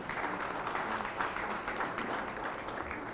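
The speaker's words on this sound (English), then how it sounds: "Please give them a round of applause." Audience applause at a youth agripreneurs forum session, a steady, moderately quiet wash of many hands clapping that holds evenly for a few seconds with no talk.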